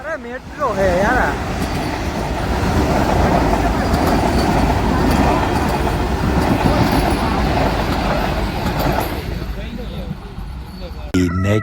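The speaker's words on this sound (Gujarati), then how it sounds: "અરે મેટ્રો હે યાર." A metro train passes close by with a loud, sustained rumble and rattling that swells and holds for most of the clip, while people talk over it.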